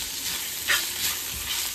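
Potatoes frying in a pan for aloo bhaji hiss steadily up close, with a couple of brief scraping stirs rising above the sizzle and no voices.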